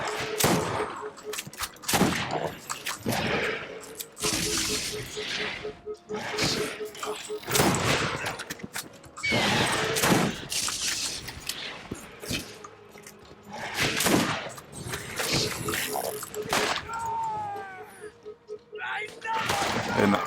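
Repeated bursts of gunfire from a fire-damage gun in the video game Borderlands 1, loud clustered volleys separated by short pauses, mixed with game effects and someone talking in between.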